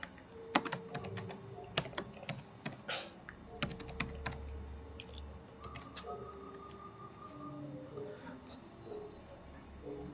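Rapid, close computer keyboard typing while a project name is entered in Apache NetBeans IDE 11.2: bursts of crisp key clicks come in quick runs, then sparser taps, with no talking.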